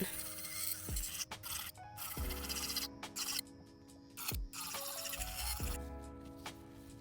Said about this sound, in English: So I did file all the nail tips.